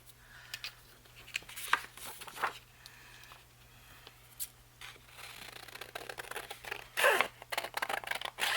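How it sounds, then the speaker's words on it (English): Scissors cut out small paper pieces for a handmade journal, making faint, scattered snips and paper rustles in a quiet room. "So let me cut these out real quick."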